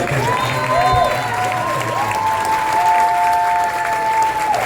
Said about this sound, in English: Just get a little bit of that applause.